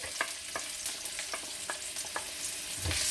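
Onion, ginger and garlic frying in a stew pot, a steady bright sizzle with several sharp clicks of stirring scattered across it, swelling slightly louder near the end.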